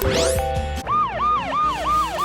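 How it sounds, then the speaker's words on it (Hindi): Fire truck siren wailing loud and close, rising and falling in steady repeated sweeps after a brief burst of other noise at the start. "Fire truck."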